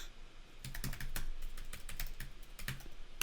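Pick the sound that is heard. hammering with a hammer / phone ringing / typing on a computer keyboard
typing on a computer keyboard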